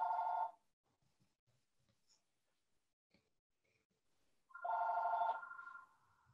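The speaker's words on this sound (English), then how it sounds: "The phone's ringing again, honey." A telephone rings twice during a staged play, each burst a short, clear electronic trill about four seconds apart, with near silence and faint stage noise in between.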